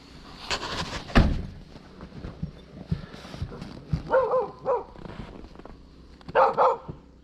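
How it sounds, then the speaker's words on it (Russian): A dog barks a few times at moderate distance, short separate yaps spaced apart, over outdoor background noise with some thumps. "Все, все, хорош гавкать, поехали."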